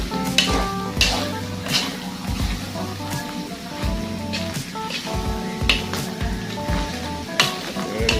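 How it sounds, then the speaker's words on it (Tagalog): Ingredients for bopis sautéing in a frying pan, a continuous close sizzle with regular scraping and stirring strokes of a spatula, plus occasional tonal hums in the background. "habang ginigisa natin"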